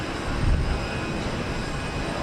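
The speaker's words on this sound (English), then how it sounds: "Another Delta jet, an Airbus A320 flight 1043 going to the Delta hub at Detroit." A Delta Airbus A320 jet at Houston Intercontinental airport gives a steady, broad roar with a low rumble swelling briefly near the start, continuous and fairly distant, with no voices.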